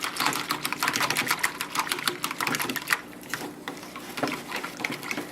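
A fork rapidly beats eggs in a bowl for Eggs Benedict, producing a fast, steady ticking and clattering rhythm, close and moderately loud, with no talking.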